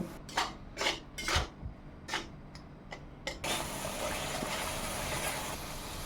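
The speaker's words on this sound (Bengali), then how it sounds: "এবার মশলাটাকে আমি ভালো করে কষিয়ে নেব" Turmeric, Kashmiri chili powder and salt are being fried into a spice paste in a pan for a Bengali hilsa malai curry, with several distinct scraping clatters of a spatula followed by a steady, close sizzle.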